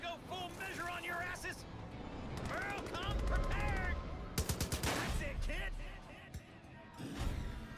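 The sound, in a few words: gunfire from AI companion in video game Far Cry 5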